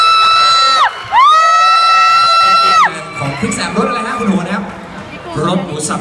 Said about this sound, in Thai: ขอเสียงปรบมือให้กับคุณโหนด ้วยนะครับ